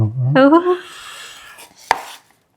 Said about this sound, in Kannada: ಕಟ್ ಮಾಡ್ತಾವ್ರು ನೋಡಿ ಚರಕ್ ಚರಕ್ ಅಂತ